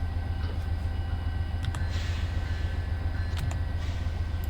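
Metro North commuter train in Train Simulator 2019 running between Grand Central and South Norwalk, a steady low rumble with faint clicks and rail squeal, loud and continuous throughout with no talk.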